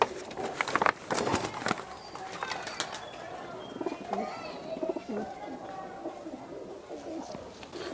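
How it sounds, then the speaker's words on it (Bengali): Kamanga pigeons at a pigeon sale in Kolkata, soft cooing and calls with occasional wing flaps and clatter, amid busy market noise and nearby voices talking. "এটা কামাঙ্গা পায়রা, মানে খুব সুন্দর বিট।"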